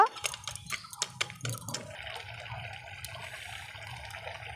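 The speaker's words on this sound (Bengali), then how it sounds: "এবার একটু জল দিয়ে দেবো সামান্য পরিমাণ মতো।" Water poured into a pan of pumpkin greens curry with potato and eggplant, a short splashing gush of several quick bursts that settles into a low simmering bubble, close and fairly quiet.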